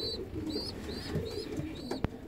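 Fancy ornamental pigeons in a breeding box coo and chirp softly in repeated short calls, close and moderately loud over a rustling loft background, with one sharp click near the end.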